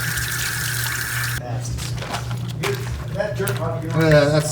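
Water pours in a steady splashing stream onto dirty socks being hand-washed on a backpacking trip to Isle Royale, then stops as a person starts talking nearby.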